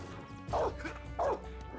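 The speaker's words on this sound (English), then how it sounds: "the dog keeps Nothing here. growling under the tank" A guard dog in Metal Gear Solid 3 gives two sharp, close barks spaced under a second apart over a low steady background hum.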